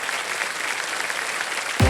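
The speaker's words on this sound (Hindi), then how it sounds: "एक बार जोरदार तालियां हो जाएं" A studio audience at a game show applauds steadily and loudly for a contestant, a dense continuous clapping that fills the whole stretch and ends with a thump.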